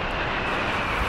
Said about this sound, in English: Holy crap, airstrike.